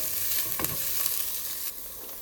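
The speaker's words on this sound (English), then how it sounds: "Now let's cook it till it becomes nice and slightly brownish and cooked thoroughly." Onions, ginger and garlic sizzle steadily in a hot pan for chana masala, a loud continuous frying hiss with a brief stirring scrape partway through, no voices.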